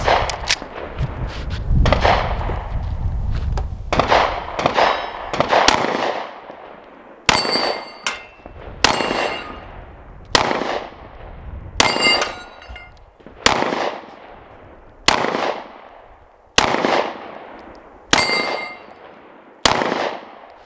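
Handgun shots fired one at a time at a target while comparing budget carry pistols (Canik Mete MC9, Taurus G2C, Smith & Wesson M&P), loud sharp reports at a steady pace of roughly one per second, with a clustered burst at the start.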